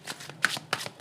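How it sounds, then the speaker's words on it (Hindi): Tarot cards being shuffled during a card reading, in three or four quick, close riffling bursts separated by brief pauses, fairly soft with no talking. "चलिए मैं आपके लिए कुछ और कार्ड्स लेती हूँ।"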